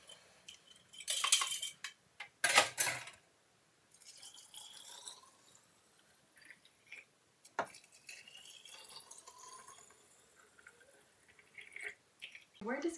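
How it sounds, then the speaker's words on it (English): Salt water poured into a glass jar, heard as a couple of short splashing pours followed by faint drips and light clinks, close and quiet. "I'm just going to fill this up with some water, salt water"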